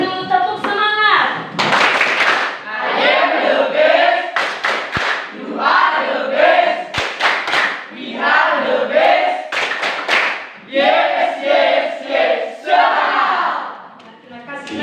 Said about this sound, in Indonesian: Silakan dulu tepuk semangat.